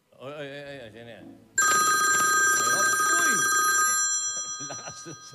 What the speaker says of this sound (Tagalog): Lakas ng cellphone.